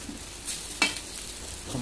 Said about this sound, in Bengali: এখানে বেগুন ভাজা হচ্ছে